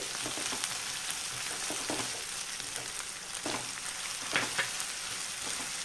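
Ginger garlic paste frying with softened onions in a pan for a dried prawn tomato curry, a steady moderate sizzle with occasional stirring scrapes and soft pops, no voices.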